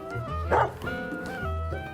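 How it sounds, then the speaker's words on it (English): A dog gives a short yipping bark amid playful whimpers and yelps as dogs chase each other, close by, lasting a couple of seconds with no talking. "And the dogs are playing chasey, as they do always."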